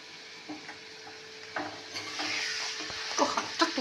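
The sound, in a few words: prawns lightly frying in oil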